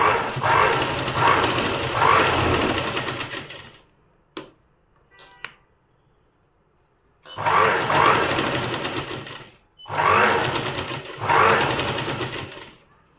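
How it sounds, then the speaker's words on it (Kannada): A sewing machine runs a straight stitch on cotton cloth in several close, whirring bursts separated by quiet gaps with faint handling clicks. "ಮೇಲ್ಗಡೆಯಿಂದ ಬಟ್ಟೆ ಮೂವ್ ಆಗದೆ ಇರೋ ರೀತಿಯಲ್ಲಿ ಒಂದು ಸ್ಟ್ರೈಟ್ ಸ್ಟಿಚ್ಚನ್ನು ಹಾಕ್ಕೊತೀನಿ"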